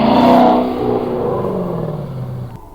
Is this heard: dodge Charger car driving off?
yes